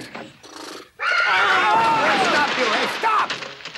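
A horse whinnies loudly and at length, its shrill, wavering call close by, with a short rustle of movement just before it.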